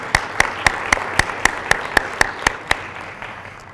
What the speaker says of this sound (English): go ahead, let's applause for the Honor Guard